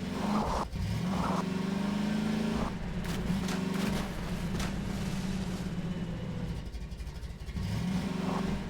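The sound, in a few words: car engine driving in the video game Half-Life 2 VR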